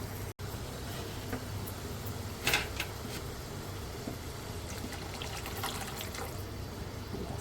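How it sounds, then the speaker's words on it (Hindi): A glass of water poured into a lauki kofta curry gravy in a home kitchen: a steady, fairly quiet liquid rush with a soft splash partway through, with no talk. "1 गिलास पानी मैं और डालूँगी ताकि अच्छी सी हमारी ग्रेवी तैयार हो जाए"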